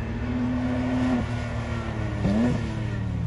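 A Porsche GT3 engine pulls hard on throttle, sustained drone then a short lift and rising rev as it comes back on power, heard from inside the car at moderate level, no talk.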